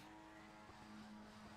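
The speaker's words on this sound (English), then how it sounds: "People burning off fuel. By the sounds of things." Several race car engines in the Skip Barber racing game rev and idle together under a constant broad drone, with a steady tonal hum sustained throughout and no voices.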